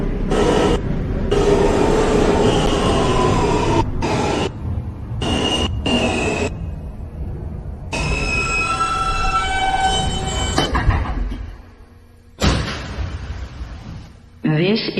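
A New York subway N train bound for Ditmars Boulevard runs between 30th Avenue and Astoria Boulevard, giving a loud, steady rumble with tonal whines and a few abrupt drops in level.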